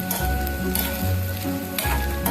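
Brinjal pieces sautéing in hot oil for rasam give a steady, close sizzle throughout, with a low crackle and a couple of brief louder bursts from stirring.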